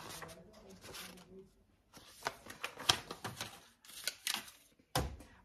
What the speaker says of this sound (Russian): А печатает как-то вот так.